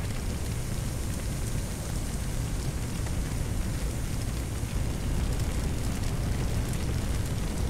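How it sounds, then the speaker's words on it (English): Fire roars in the Firefighting Simulator video game, a dense, constant crackling rush like heavy rain, steady and fairly loud throughout with no voices. "Oh man, this fire is going like crazy."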